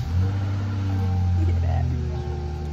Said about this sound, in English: Yeah, I actually turned the car on.